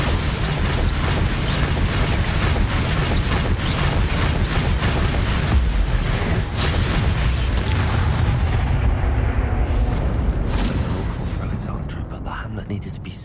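Spell explosions from Bombarda and Confringo in Hogwarts Legacy, loud booming blasts that run together under continuous game noise and voices.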